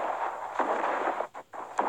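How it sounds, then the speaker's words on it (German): Gunshots in the video game Fortnite: a few sharp cracks over a steady, noisy in-game background, with a louder burst near the end. "Oh, scheiß Schüsse aus dem Benz."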